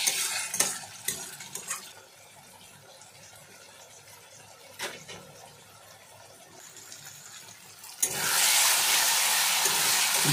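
Tomato with crushed ginger and garlic hits hot oil after fried onions for a jackfruit curry, with spoon stirring and clinks against the pan, then a loud steady sizzle bursting in near the end.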